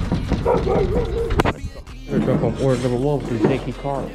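A dog at a delivery doorstep gives a couple of barks early on, loud and close, and someone speaks over and after the barking.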